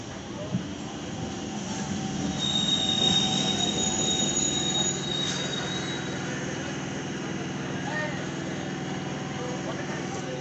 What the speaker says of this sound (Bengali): এবার ওরা ট্রেনে উঠবে, চলে যাবে।